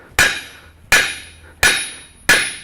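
Hammer striking a steel taper held near the edge of an anvil while forging: four sharp, ringing metallic blows at an even pace, each decaying quickly, close and loud with no talk.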